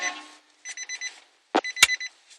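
A truck-mounted train horn on a Nissan Titan gives several short, clipped bursts in close succession, loud and near, separated by brief silences, with no talking.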